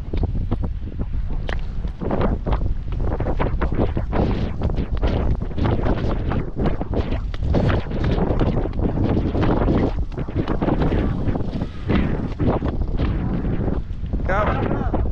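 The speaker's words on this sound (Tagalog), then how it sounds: "Lakas ng hangin." Strong wind at a coastal port in Claver, Surigao del Norte roars and buffets the microphone continuously, loud and close, with rushing gusts throughout.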